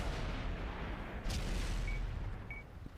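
In World of Tanks on console, a cannon shell slams into the side of a tank: a single sharp boom over a low, faint battle rumble.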